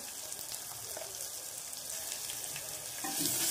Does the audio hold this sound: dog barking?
no